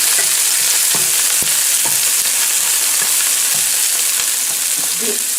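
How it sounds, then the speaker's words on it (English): Sweet green and red peppers sauté in a hot pot, giving a constant close sizzle with a few soft stirring knocks, loud and unbroken for a few seconds. "And we're going to saute it up."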